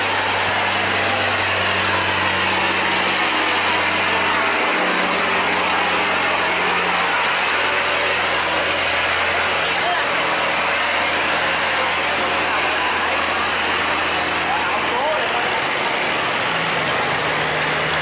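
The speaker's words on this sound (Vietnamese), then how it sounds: "Động cơ của cái xà lan này thực sự là quá mạnh." A powerful engine on an overloaded barge runs steadily near a dam, a continuous heavy rumble with a low hum and broad roar lasting throughout, with no talk.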